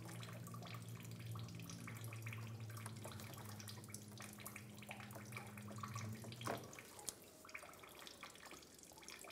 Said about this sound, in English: There's going to be some fluid that comes out,